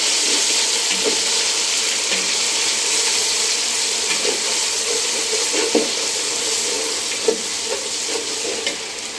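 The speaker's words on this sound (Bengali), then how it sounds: "আদা রসুনটা একটু ভেজে নিলাম" Ginger and garlic sizzle in a pan for a Bengali bhuna khichuri, a steady close frying hiss broken by scattered scrapes and clinks of stirring.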